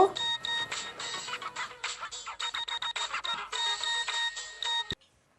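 A telephone ringtone plays indoors in a Pakistani household drama scene. A bright electronic melody repeats in short bursts for about five seconds, then cuts off abruptly.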